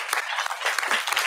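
Brief audience applause at a cultural event on Dante, a bright, continuous patter of many hands clapping at moderate loudness, with no speech over it.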